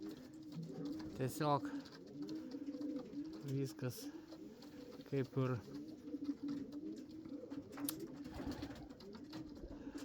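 A male racing pigeon outside a loft in Lithuania coos to a female in several soft, throaty bursts spaced a couple of seconds apart, close by and quiet, with someone talking at low volume throughout.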